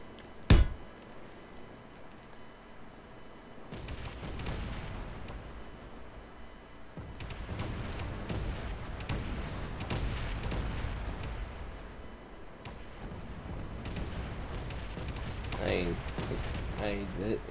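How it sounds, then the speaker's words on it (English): A rain of missiles strikes a ship in the space game Space Engineers: a sharp blast opens, then continuous rumbling explosions and booms roll on steadily, loud and dense throughout. "But just got this rain of missiles and stuff,"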